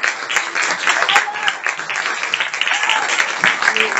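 Audience applause fills a hall at a Turkish screening event, steady dense clapping sustained throughout at moderate loudness with a few sharper individual claps standing out.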